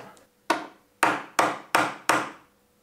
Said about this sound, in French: En tapant très fort au bord de la table, il est sorti.